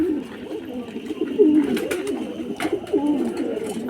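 Pigeons recovering from a cold coo close by in a series of soft, throaty rolling calls, with light rustling and clicks around them.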